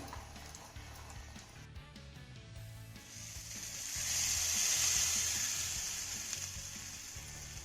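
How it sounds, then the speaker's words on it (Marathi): Hot oil poured onto a paste bursts into a loud, hissing sizzle that swells after a few seconds, then slowly fades, close up. "आता ही कडकडीत फोडणी ना आपल्याला तयार केलेल्या वाटणावर घालायची आहे."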